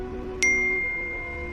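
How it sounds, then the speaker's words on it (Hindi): A single bright notification chime rings out once and lingers briefly as it fades over a quiet background. "अचानक उसके फोन पर मैसेज नोटिफिकेशन आया।"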